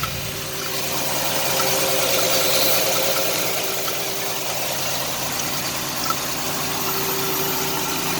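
A 1989 Chevrolet Celebrity 2.8 V6 idles rough and misfires, a steady close engine drone with uneven, stumbling pulses throughout and no talking.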